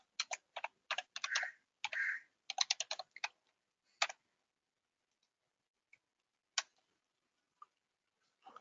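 Typing on a computer keyboard while writing a shell script: quick bursts of close, crisp key clicks for about four seconds, then scattered single taps spaced far apart.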